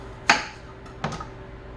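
A knife chops green onions on a board for homemade hot sauce: two sharp, close chops spaced well apart, with quiet kitchen ambience and no talk.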